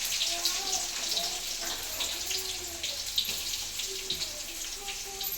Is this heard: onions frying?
yes